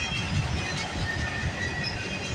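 An auto rack freight train rumbles past close by at night, a steady low roar with faint metallic squeal and clatter, continuous throughout with no voices.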